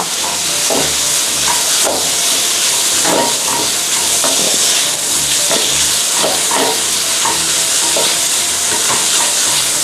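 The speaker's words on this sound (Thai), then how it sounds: "ผัดไปเรื่อยๆนะคะจนกว่า เนื้อหมูนะคะ จะเข้ากันดีกับพริกแกง" Minced pork stir-fried with curry paste in a Teflon pan without oil, a loud steady sizzle and hiss with regular scraping stirs throughout, no talking.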